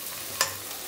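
Onions sautéing in a pan: a soft, close sizzle with a single brief scrape of a stirring spoon midway through the short moment.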